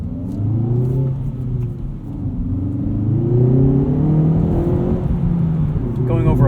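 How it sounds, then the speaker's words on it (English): A 2019 Hyundai Veloster Turbo R-Spec rumbles loudly over a bumpy road from inside the cabin, engine drone rising and falling continuously, with someone talking over it. "Going over a bumpy road here."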